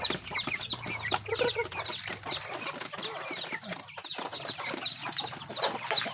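Many chickens cluck and chatter continuously at close range while being fed, a busy overlapping flock sound with occasional louder squawks.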